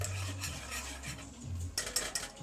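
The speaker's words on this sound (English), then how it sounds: "just make sure you stir your soup so it gets this the right consistency" A spoon scrapes and stirs thick soup in a pot, with soft rhythmic swishes and a few sharper utensil knocks against the pot toward the end, close and fairly quiet.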